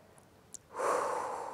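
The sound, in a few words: exhaling breath while releasing abdominal muscles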